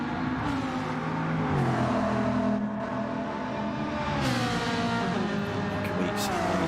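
A Lamborghini race car engine roars steadily in a sim-racing league race, revving and shifting up through gears under continuous race commentary.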